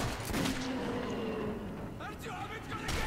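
Gunfire in Metro 2033 during a chaotic fight, with bursts of shots and sharp impacts mixed into a busy game soundscape, under a background of game noise and other sounds.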